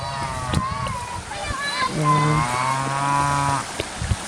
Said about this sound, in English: this is like a cow